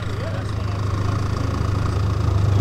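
A 2-litre fuel-injected car engine with a Bosch injection system idles at a classic car show, giving a steady low rumble that grows slightly louder, with a person talking over it.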